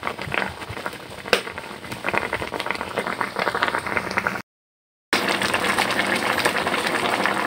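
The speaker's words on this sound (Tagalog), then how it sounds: "Ayan po, kumukulo na po itong ating gulay." A pot of sautéed vegetables boils with a dense, steady bubbling and sizzling hiss, close and continuous, briefly cut off before resuming.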